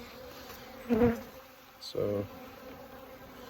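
Honeybees buzz around a beehive during a spring hive inspection, two short, close, loud buzzing passes over a low background hum, with a brief spoken word.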